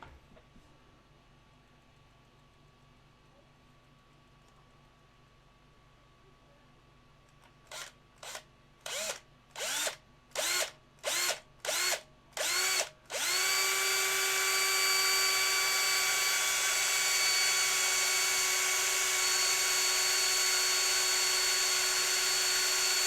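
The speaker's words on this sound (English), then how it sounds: "We're gonna take a smaller drill first." Small power drill boring a pilot hole into a tough piece of resin model kit, starting with about eight short on-off bursts of whine, then a sustained high continuous drilling whir for the last ten seconds.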